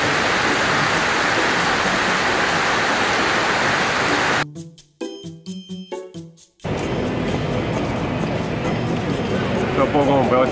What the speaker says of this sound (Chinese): 哗哗哗就下起了暴雨。